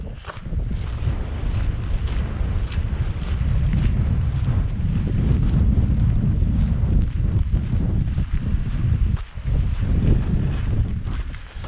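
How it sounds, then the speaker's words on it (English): Strong, gusting wind on the Cape Wrath Trail in Scotland roars steadily into the microphone, a loud continuous low buffeting rumble that briefly dips near the end, with no voices. "that wind's going to get even more intense"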